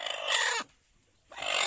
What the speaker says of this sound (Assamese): পাঞ্জাবী মুৰ্গী হয়